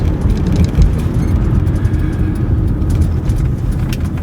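A Chrysler PT Cruiser with front brake and outer tie rod trouble drives along a road, giving a steady, close low rumble of engine and road noise throughout, with no voices heard.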